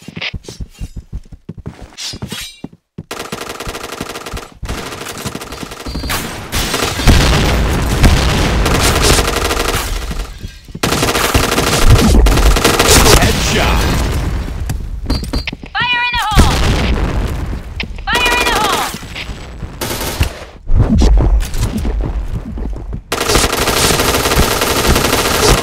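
T77 rifle gunfire in the online shooter Point Blank, loud rapid automatic bursts repeating across the match with booms and clattering effects, layered under game announcer callouts and voices.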